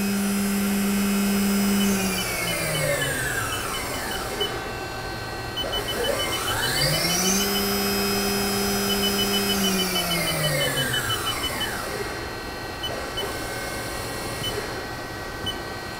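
A CNC machine spindle spins up to 12,000 RPM, its high whine sweeping upward and then holding a steady, loud tone, with sweeping harmonics as the speed changes and a constant mechanical hum underneath.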